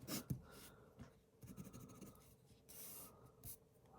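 A Hongdian Black Forest fountain pen, a wet writer filled with Lamy black ink, scratches and glides across paper in close, quiet strokes with short pauses between them.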